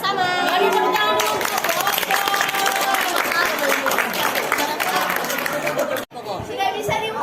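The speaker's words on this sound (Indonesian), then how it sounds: "Mari tepuk tangan dulu." Classroom audience at a microteaching session clapping in a noisy burst mixed with chatter and lively voices, loud and close, briefly cut off near the end before talk resumes.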